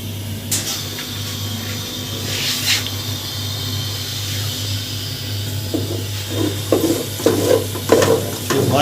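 Panjiri of roasted chickpeas cooks in ghee, a loud, steady sizzle with spoon scrapes and stirring strokes that grow busier toward the end, with no talking.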